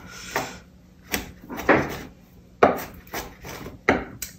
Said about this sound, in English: finely mincing the garlic